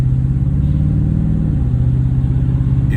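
A car idles roughly and revs unevenly, its mid-range engine rumble dipping and stumbling as one ignition coil pack fails to fire, steady and close with no talk.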